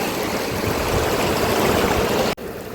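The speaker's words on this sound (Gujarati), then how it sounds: "અવાજ પણ કેટલો મસ્ત આવે છે પાણીનો વહેતું પાણી છે" Water pours at the natural Sahastradhara waterfall by the Khodiyar temple in Gujarat, a steady broad rushing close by that cuts off abruptly near the end, then resumes more softly.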